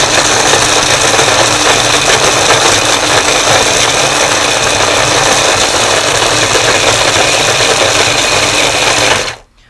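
An electric food processor finely chops cashews, walnuts, raisins and plantain chips with a loud, steady motor whir and rattle that runs unbroken for about nine seconds before cutting off.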